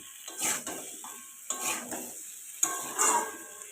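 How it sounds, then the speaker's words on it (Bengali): A spatula stirs pumpkin chokka with salt in a pan: three close scraping strokes with light metal clatter and faint sizzle between them, quiet and unaccompanied by talk. "লবণ দিয়ে আবারও ভালোভাবে নাড়াচড়া করে নেব"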